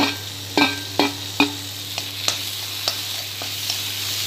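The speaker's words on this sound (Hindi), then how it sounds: "प्याज ब्राउन हो चुका है। अब हम इसमें टमाटर डाल देंगे एक" Tomato and green chili are stirred into browned onions frying in a pan. A low sizzle runs under about eight sharp scraping and tapping spoon strokes, loud at first, then lighter.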